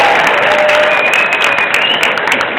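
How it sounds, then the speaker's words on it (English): A convention panel audience claps loudly and continuously, a dense wash of many hands close to the microphone at WonderCon 2013. "We all got a clap for Jane Espenson"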